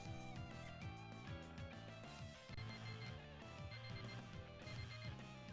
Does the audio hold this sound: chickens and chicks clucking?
no